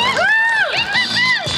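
A crowd at a Nowruz celebration breaks into loud, rising whoops and cheers from a few voices, close and continuous, with no clear clapping.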